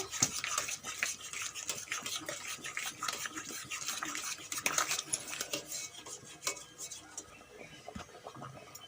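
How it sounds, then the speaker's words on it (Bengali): A utensil scrapes and clinks against a metal pot in steady stirring strokes through a potato and fish curry, close and moderately quiet, with no talking. "একটু নাড়াচাড়া দিয়ে নেব"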